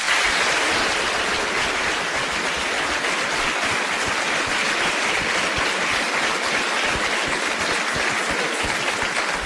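Sustained audience applause fills a mayoral candidate forum, dense steady clapping from a crowd holding at an even, loud level throughout with no voices breaking through.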